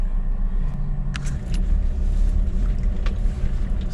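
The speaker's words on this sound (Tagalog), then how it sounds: "Naka-engage pa rin tayo ng 4x4 kasi mas matindi yung daan na dadaanan natin." A 4x4 vehicle with four-wheel drive engaged crawls along a rough, narrowing road near a campsite in Bangkong Kahoy Valley, giving a steady low engine rumble with cabin rattles and occasional clunks from the uneven ground.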